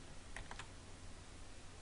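Computer keyboard keys pressed for an Excel shortcut, a short burst of three quick clicks near the start of a quiet stretch with faint background hiss.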